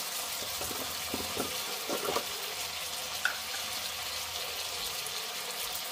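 Chopped local tomatoes frying with turmeric in a pan for drumstick curry, a steady close sizzle with a few soft stirring scrapes early on and a single small tick, no voices.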